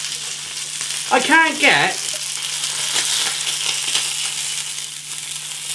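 A Lidl First Light Wagyu burger sizzles on a hot griddle pan, a steady, loud frying hiss that runs throughout, briefly joined by a person speaking early on.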